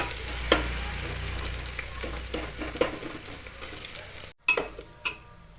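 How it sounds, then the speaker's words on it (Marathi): Garlic and stone-pounded spices stirred in a frying pan for khichdi, a steady low sizzle with scraping spoon strokes and a few sharp clinks of utensil against the pan near the end. "दोन 3 मिनिटं आपण याला हलवत राहायचं"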